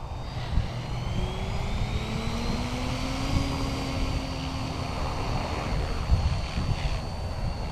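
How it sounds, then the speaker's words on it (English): SAB Goblin 380 electric RC helicopter on a 6S battery, spooled up and flying on its maiden flight, a steady whining rotor hum with rising and falling tones, moderately near, no talking. "Let's go ahead and spool up."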